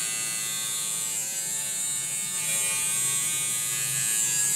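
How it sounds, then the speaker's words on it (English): Electric hair trimmer buzzing steadily and close up during a home haircut, a continuous bright whine that holds level throughout with no talking. "move the trimmer towards the bottom and keep going"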